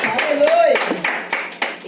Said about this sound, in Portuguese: Bate palmas e dá glória a Jesus